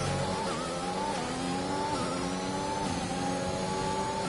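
Mercedes Formula 1 car engine in the racing game F1 2021, a steady high-pitched whine with shifting revs and slight tire squeal, loud and continuous with no talking.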